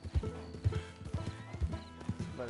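A mule's hooves clip-clop in an even walking rhythm in Red Dead Redemption II, roughly five clear steps up close with a brief whinny near the end.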